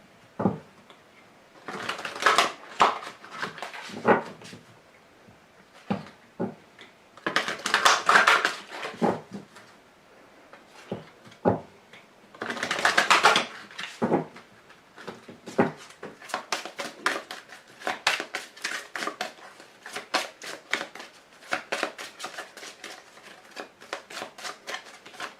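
Oracle cards from an Archangel Gabriel deck being shuffled and drawn by hand, irregular bursts of riffling and slapping with soft tapping and sliding between them, close and fairly quiet.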